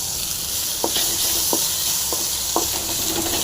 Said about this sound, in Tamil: வெங்காயம் நல்லா ஃப்ரை ஆகிருக்கு இப்போ நல்லா ஃப்ரை பண்ணிக்கலாம்